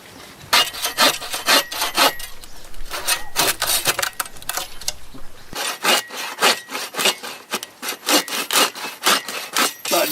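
A hand saw cuts through wood outdoors at a campsite in rhythmic back-and-forth strokes, each rasping pass distinct and close, with a short pause midway before the steady sawing resumes.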